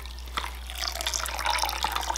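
Dyed yarn lifted from a pot of hot water, letting a steady close stream of trickling and dripping water fall back, with a couple of brief splashes and no voices.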